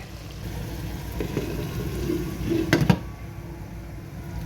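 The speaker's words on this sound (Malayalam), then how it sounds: "അപ്പോൾ ഞാനിത് മൂടി വെച്ച് കൊടുക്കാവേ." A lid is set on a cooking pot of soybean curry with a few clanking metal knocks near the end over quiet kitchen background.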